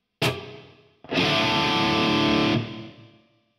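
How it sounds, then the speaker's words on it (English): A guitar note rings out, then a loud, buzzy reverb wash from a cheap guitar pedal swells and sustains before fizzing away into a fading tail. "you can hear the quality of the reverb or the lack of quality of the reverb"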